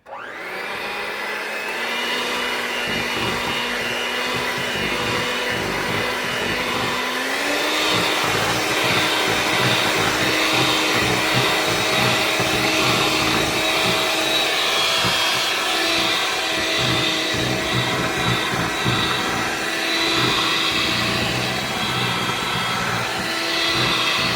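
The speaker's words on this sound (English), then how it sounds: "We're going to go ahead and mix that in." An electric mixer beats pound cake batter for a pineapple upside-down cake, a steady loud motor whine running continuously with a pitch step partway through, no talking over it.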